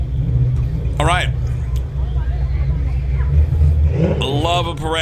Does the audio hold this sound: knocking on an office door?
no